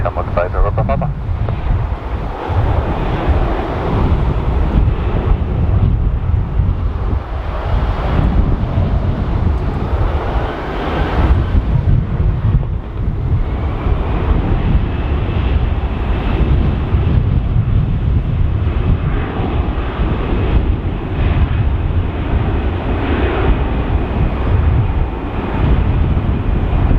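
Strong gusting wind roars across a microphone at Dublin Airport, a heavy low rumble throughout, mixed with the distant drone of aircraft and occasional voices underneath.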